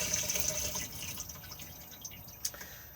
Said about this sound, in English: just slide the lever across and then push to flush just here